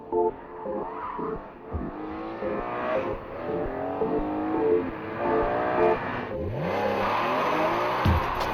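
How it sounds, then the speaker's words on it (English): A third-generation BMW M3 with a 3.2 litre inline six making 338 horsepower accelerates hard, the engine note climbing through rising sweeps, dropping at a shift and pulling up again, loud and close. "This is BMW's latest M3, the third in the series and the most powerful ever."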